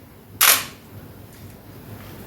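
A Nikon D5 DSLR fires its shutter release with a single sharp, close mechanical clack, then quiet room tone before another brief click at the very end.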